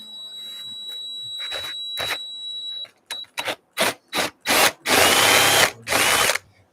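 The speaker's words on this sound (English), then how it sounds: "I think I'm gonna have to drill this out here." Drilling into a piece of wood with a power drill, loud close bursts of whirring in short repeated pulses, then a longer sustained run, after a steady tone fades out.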